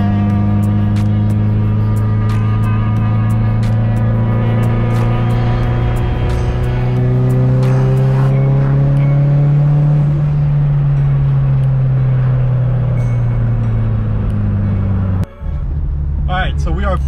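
A Mitsubishi Evo 8 cruises with motorbikes nearby. A steady, close engine drone holds with a slow rise and fall in pitch, then cuts briefly near the end before resuming.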